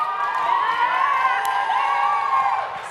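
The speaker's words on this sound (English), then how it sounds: "whoever gets the loudest cheer is the winner" An audience cheers and whoops for the first group at a college style showcase, the shouting loud and sustained throughout, with high children's voices mixed into the crowd noise.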